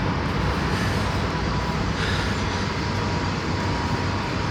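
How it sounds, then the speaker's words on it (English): A train rumbles through the city near Astoria's 21st Street, a loud, steady roar of rail noise that fills the air without pause. "Get the noise of the train."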